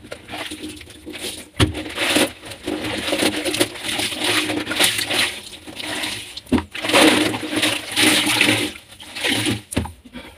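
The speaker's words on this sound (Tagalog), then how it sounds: "Tapos na po tayo magbanlaw." Running water rinsing a hamster cage, a loud steady splashing rush that swells and eases, broken by a few sharp knocks of plastic.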